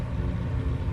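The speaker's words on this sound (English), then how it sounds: "Now it's got new plugs, new coils, runs and purrs like a champ." A BMW 435i engine idles after fresh spark plugs and ignition coils, giving a steady, close, low rumble with no voices over it.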